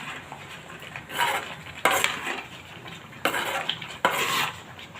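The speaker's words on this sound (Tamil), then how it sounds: "ஃப்ளேமில் வச்சுட்டு கிண்டினே இருக்கணும்" Jaggery filling for maida poli being stirred in a pan over a flame: repeated scraping strokes of a spoon against the pan, close and clear, in uneven bursts with a light sizzle underneath.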